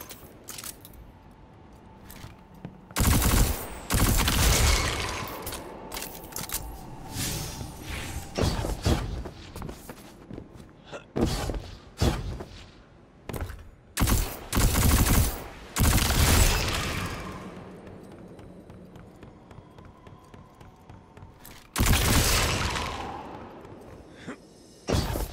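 Gunfire in Destiny 2 aimed at attacking moths: repeated loud bursts of shots in irregular volleys, separated by short quieter gaps, with heavy impacts and mechanical noise between them.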